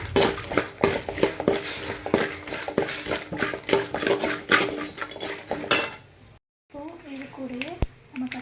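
Peanuts sprinkled with asafoetida are stirred in a pan while they brown, giving a steady run of close metal spoon clinks and scrapes against cookware for about six seconds before a brief pause.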